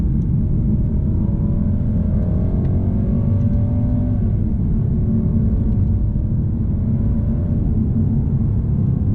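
Mercedes-Benz AMG car on a track during an advanced driving course, a continuous low engine drone and rumble with slight shifts in pitch as it drives, with no voices.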